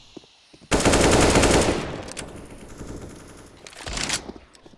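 Rapid automatic gunfire in a mid-map fight on Inferno in Counter-Strike, a loud sustained burst followed by quieter distant shots and a second short burst near the end.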